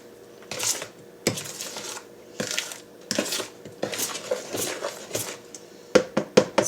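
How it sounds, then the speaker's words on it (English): Fruit cocktail cake batter stirred by hand with a spoon in a bowl, giving a series of scraping knocks and clinks in an irregular rhythm, close and fairly quiet, with no talking. "Just stir, stir, stir."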